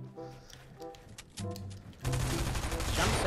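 Gunfire in the game Fortnite: scattered shots and tonal game effects at first, then a loud, dense burst of fire that carries on to the end, fairly close.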